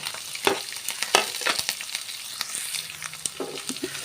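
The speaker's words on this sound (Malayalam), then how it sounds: "നമുക്കൊന്ന് ഇളക്കി കൊടുക്കാം ഇളക്കിട്ട് നല്ലോണം എണ്ണയിൽ നല്ലോണം ഒന്ന് വഴങ്ങോട്ടെ" Curry leaves, chopped onion and chili sautéing in hot oil for a Kerala ivy gourd thoran, with steady sizzling broken by several sharp scrapes and knocks of a spoon stirring the pan, close and fairly loud, no talk.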